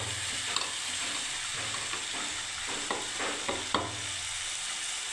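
Soaked chana dal going into a pan of frying ridge gourd for a paneer curry brings a continuous close sizzle, with spoon stirring and scraping in several distinct strokes, moderately loud and with no talk.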